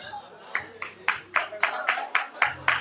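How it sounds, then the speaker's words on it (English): A group claps in steady rhythm for a competitor at a winter games flagging event, about nine evenly spaced, crisp claps, moderately loud, with faint background voices between them. "Let's clap it up."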